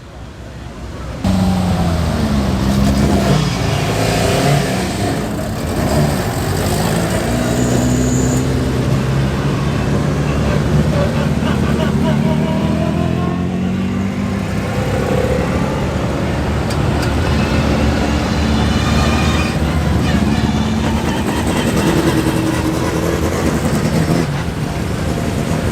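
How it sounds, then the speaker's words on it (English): Historic 1950s and 1960s classic racing cars on track at Oulton Park pass one after another with continuous loud engine roar, pitches sweeping up and down during flybys over heavy wind noise. "let's get some flybys and the fantastic sound of these historic engines."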